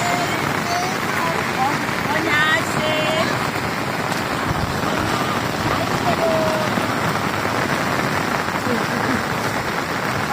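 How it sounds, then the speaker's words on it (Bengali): Rain falls steadily over a flooded paddy field at harvest time, a continuous dense hiss throughout, with a few thin tonal chirps above it. "বৃষ্টি হচ্ছে।"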